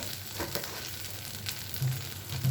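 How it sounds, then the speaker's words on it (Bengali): Pointed gourd sautés with salt, turmeric and a pinch of sugar in a pan, a soft, even sizzle with faint stirring scrapes, close and unbroken. "এবার এগুলোকে নুন হলুদ দিয়ে ভালো করে কষাবো"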